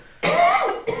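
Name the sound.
coughing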